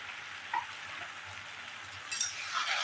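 Pieces of idli go into a hot pan over high flame and are stirred, giving a quiet, continuous sizzle broken by a few light clinks and scrapes.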